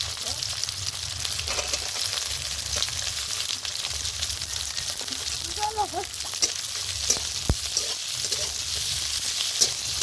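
Onion, bay leaf and plenty of green chillies fry in hot oil in a kadai for snail curry, producing a loud, continuous sizzle with scattered crackles and pops throughout.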